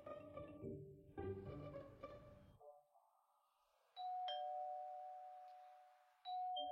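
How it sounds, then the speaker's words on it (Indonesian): A house doorbell rings twice with a clear, sustained electronic chime, loud and close, after a softer stretch of background music fades out. "Han Xiu, ada yang menekan bel pintu."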